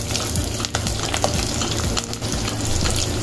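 Chopped onion frying in hot oil in a pan for cabbage poriyal, a steady loud crackling sizzle with occasional stirring scrapes, close up, no talking.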